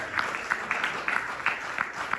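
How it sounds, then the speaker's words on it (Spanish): A church congregation claps at a moderate distance, with sharper individual claps standing out over a soft wash of applause. "Denle un aplauso al Señor."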